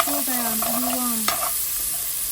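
Vegetables fry in leftover grease in a pan and are stirred, giving a close sizzling hiss, with a wavering tonal whine over the first half that cuts off after a sharp knock.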